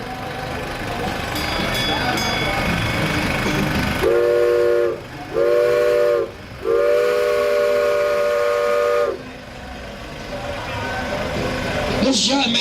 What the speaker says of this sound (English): a hand-built working replica of the steam locomotive 119